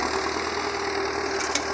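An old Valmet 86 tractor engine runs steadily while harrowing a yard, a loud, continuous diesel drone with a rough, knocking idle-like texture and no voices.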